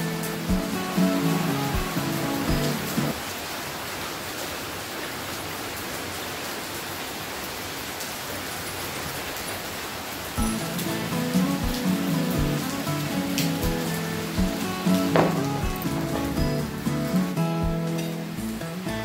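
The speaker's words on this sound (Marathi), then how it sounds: "आज सकाळपासून इतका पाऊस आहे" Heavy rain pours down steadily, a dense close hiss of drops on surfaces that continues throughout with no break.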